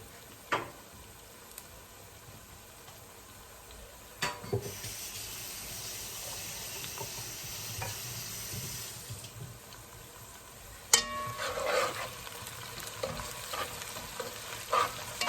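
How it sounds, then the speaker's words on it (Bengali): Goat meat frying in a pan, a steady sizzle with stirring scrapes and clatters, growing louder partway through with utensil knocks and splashes near the end. "এখানে খাসির মাংস বসাবো"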